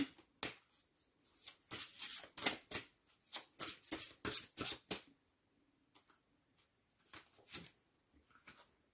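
Tarot cards shuffled and drawn by hand, heard as quick riffling and slapping card sounds in close bursts, then a pause before a few more scattered flicks, quiet with no talking.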